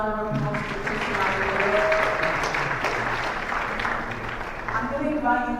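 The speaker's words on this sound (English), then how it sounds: "Can we give another round of applause to Ishmael?" Sustained applause from a live audience at a summit event in Ghana, broad and steady for several seconds with an announcer's voice layered over it.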